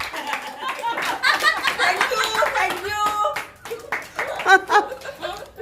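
A group claps together for a girl who came first in English, producing loud, dense, continuous clapping under overlapping chatter and children's voices, with some laughter mixed in.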